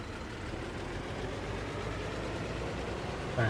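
A tractor engine in Farming Simulator 22 runs at a low, steady idle rumble, continuous and fairly quiet, with a brief bump near the end.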